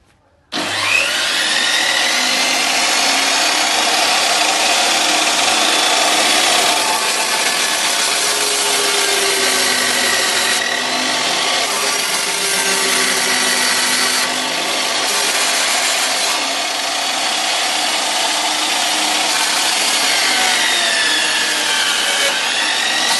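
A Japanese Hitachi band saw with a 30 cm flywheel rips through wood 25 cm thick, giving a loud, steady rasping whine that holds unbroken after a short quiet start, with no voices over it.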